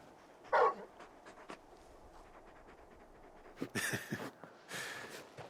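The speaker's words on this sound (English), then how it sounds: "You're just a big puppy, aren't you? A very big puppy." Torgal, a large dog in Final Fantasy XVI, gives short whimpers and panting breaths in a few soft bursts separated by quiet stretches, close by and alone.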